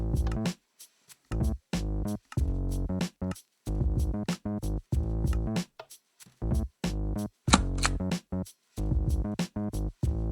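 Short, bright click sound effects from a Minecraft Bedrock Edition command block timer, triggered in quick succession with brief silent gaps between them, fairly loud and with no talking.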